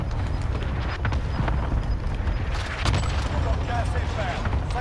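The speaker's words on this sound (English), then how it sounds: "I hear footsteps above me" Rapid footsteps thud over a dense, loud in-game mix in the Warzone battle royale shooter, with a muffled boom and scattered gunfire layered into the busy background.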